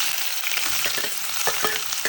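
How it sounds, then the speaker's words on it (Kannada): Onions frying in hot oil after mustard seeds, cooking for a capsicum gojju: a steady broadband sizzle with a few sharper crackles and stirring scrapes, close and continuous, no voices. "ಈರುಳ್ಳಿನ ಚೆನ್ನಾಗಿ ಫ್ರೈ ಮಾಡ್ಕೊಂಡು, ಜಾಸ್ತಿ ಬ್ರೌನ್ ಬೇಡ, ಲೈಟ್ ಫ್ರೈ ಮಾಡ್ಕೊಂಡು."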